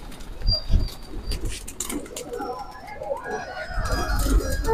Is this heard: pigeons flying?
yes